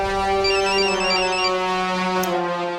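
A phone's electronic ringtone plays loud and close, a bright repeating melodic tune lasting a few seconds with no talking.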